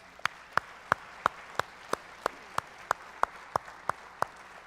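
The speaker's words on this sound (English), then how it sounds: "Can we give our panel a round of applause?" Sharp, evenly spaced claps, about three per second, ring out alone over a faint hum, more like one person's steady clapping than a crowd, applauding a marriage panel.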